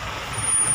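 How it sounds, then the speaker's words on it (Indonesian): Truck air brake released with a sustained hiss over a low idling diesel engine, short and close, with a thin high whistle entering partway through. "Di rem saya lepas, mobil jalan."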